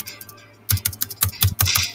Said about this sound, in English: I'm just clicking the space bar so hard right now,